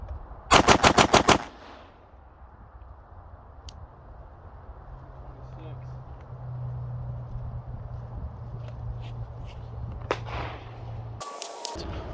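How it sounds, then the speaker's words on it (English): Seven rapid shots from a Staccato C2 pistol fitted with a Parker Mountain Machine compensator, loud and close in a quick burst, then a long quiet stretch of outdoor ambience before another sharp sound at the end. "Seven shots."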